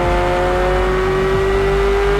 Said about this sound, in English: And because they have very short exhaust pipe, you get some very nice sounds.